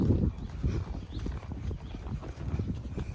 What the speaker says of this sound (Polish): Pięknie, super koń.